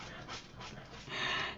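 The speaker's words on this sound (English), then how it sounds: "And please excuse my dog" A pet dog pants steadily and whimpers close by indoors, the breathy panting rising in louder bursts toward the end, with no talking over it.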